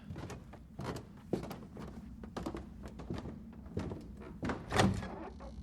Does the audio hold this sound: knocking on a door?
yes